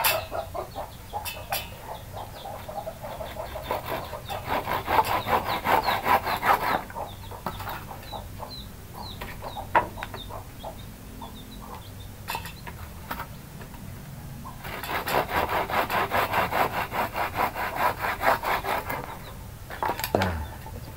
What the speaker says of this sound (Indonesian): Kita potong ya Mas Bro, menggunakan gergaji.